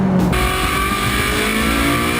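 A Ferrari 458 Speciale V8 engine roars steadily at high revs above 5,000 RPM, loud and close, with a dense throaty drone holding for a couple of seconds.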